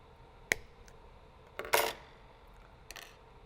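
Wire cutters snip 20 gauge jewelry wire in a few small, close metallic clicks and snaps, one sharp tick followed by a slightly longer crisp cut and a faint final click, against quiet room tone without talk.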